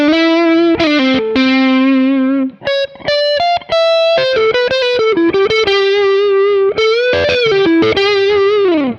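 An electric guitar, a Paoletti Nancy Loft with its pickup driven through overdrive, plays a loud, sustained distorted melodic phrase with bends and repeated short picked notes, alone and close, with no talk.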